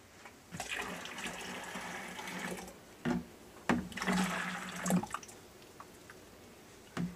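Liquid is poured into a blender while making keto horchata, a splashing, gurgling pour close up that comes in a few uneven bursts with short drips and pauses between them.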